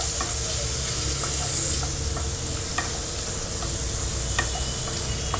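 Paneer cubes sautéing with turmeric in a hot pan, a steady close sizzle with light stirring clicks and scrapes running throughout, no talk.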